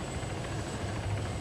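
A helicopter in the video game Arma 3 flying low at reduced speed while descending to land, giving a steady, loud, unbroken rotor and engine drone with no talk.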